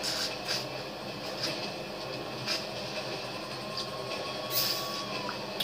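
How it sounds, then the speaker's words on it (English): Inside a moving train in GTA 5, a steady rumbling rattle of the carriage rolling along with faint clicks and knocks recurring over it, no voices. "Alright, sweet, we're in a train."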